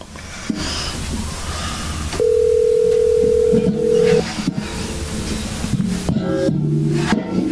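A steady electronic tone holds for about two seconds amid background noise, followed by shorter tonal beeps, like a phone line ringing or dialing.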